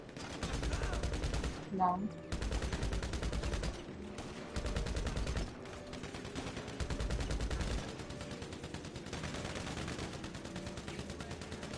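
Repeated bursts of automatic gunfire in the GTA 5 video game, loud and close, broken by short pauses. A voice briefly speaks over the shooting.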